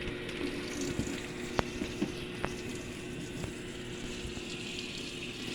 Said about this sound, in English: Now it's filling up with water.